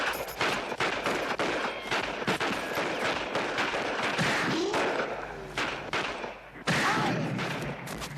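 Gunfire in a Charles Bronson action film: a rapid fusillade of sharp, loud shots and bursts, irregular but dense, with thuds and slams mixed in and a brief lull before a final heavy volley.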